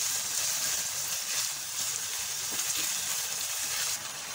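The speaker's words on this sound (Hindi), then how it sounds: "इतना सौते करने से कलर चेंज हो जाए। और चिकन तो वैसे ही जल्दी पक जाता है" Chicken sautés in a pan for a creamy chicken lasagna, a continuous bright sizzle and crackle of frying that stays steady and close throughout, with a slight drop near the end and no talk.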